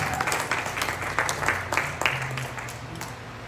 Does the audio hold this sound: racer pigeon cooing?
no